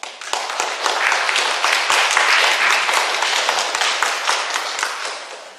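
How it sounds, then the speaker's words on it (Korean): A church congregation claps for the fathers present, a dense, even round of applause lasting several seconds at close range, with no talking over it. "우리 아버지들 힘내시라고 우리 아버지들을 위해서 한번 박수 좀 쳐드리죠."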